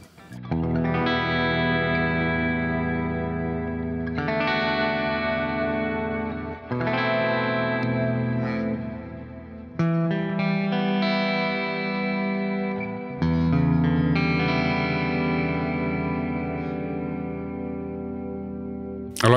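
Electric guitar chords ring out through a Neural DSP Archetype Petrucci amp plugin, each strum left to sustain and wash into a wide, echoing reverb tail.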